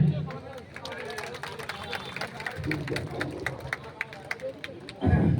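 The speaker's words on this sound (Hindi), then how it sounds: "एक बार सभी जोरदार तालियां बजा रहे हैं।" A large crowd at an Ambedkar Jayanti celebration in a town or village claps steadily for several seconds, dense and continuous, under a voice on a loudspeaker and general crowd chatter.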